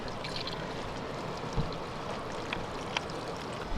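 Water leaks steadily from a pinched gasket on a sailboat's watermaker hose, a continuous close hiss and trickle with a few small drips and splashes standing out.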